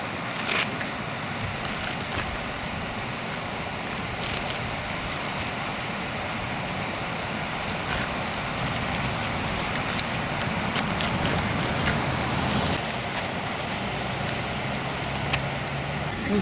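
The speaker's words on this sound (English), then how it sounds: "So this is Lewis Falls." Lewis Falls in Yellowstone Park gives off a continuous broad roar of falling water, steady and even throughout, with some gusts of wind buffeting the microphone.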